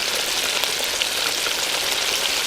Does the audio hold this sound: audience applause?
no